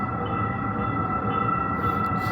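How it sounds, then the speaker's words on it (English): A loud train rumbles past on a city street, a steady broadband roar with a sustained high tonal whine from the rail cars, continuous and close throughout. "try to move away from these loud ass trains and buses."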